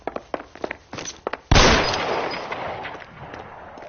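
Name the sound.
gunshots in video game L.A. Noire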